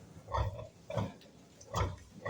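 A nursing sow on a farm gives three low, rhythmic grunts, close by, with short pauses between them.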